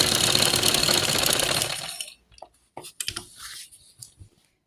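A sewing machine stitches a poncho with a fast, continuous whirring run lasting about two seconds, then stops, leaving a few scattered clicks and soft handling noises.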